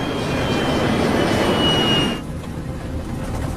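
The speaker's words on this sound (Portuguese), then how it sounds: "põe a potência do motor em marcha lenta para que seja protegido de danos" An aircraft jet engine throttles back to idle, with a loud roaring whine and a high tone that abruptly drop away partway through, leaving a quieter, lower hum.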